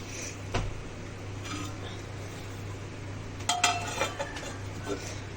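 A pot of mutton kulambu is covered: metal clinks and one brief clatter of the lid settling onto the pot, over a steady low background hum.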